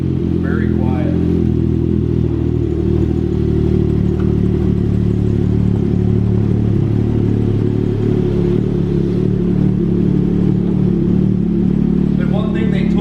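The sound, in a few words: Ski-Doo XRS 900 ACE Turbo snowmobile engine started and idling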